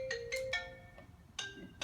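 A mobile phone ringtone chimes in short bright melodic bursts, a few quick tones, a pause, then another burst, moderately loud and close with no talk over it.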